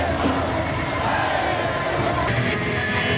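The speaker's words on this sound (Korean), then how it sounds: "이대호를 연호하는 팬들의 함성과 함께 경기가 끝났다." A packed baseball stadium crowd in Japan roars and chants at the end of an Orix game, a dense continuous wall of cheering voices filling the whole stretch.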